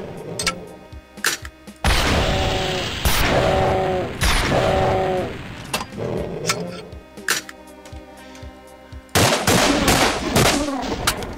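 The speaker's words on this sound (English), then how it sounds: "I might just use my rocket launcher" Rocket launcher firing in the video game Doom, several loud booming blasts with heavy rumbling explosions, interleaved with sharper shots and monster cries, a person talking at times underneath.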